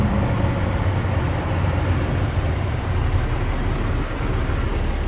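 A 2006 International 7600 crew cab flatbed truck with a 410 hp Cummins engine runs at high RPM, a loud, steady, dense diesel roar held close throughout without any voices.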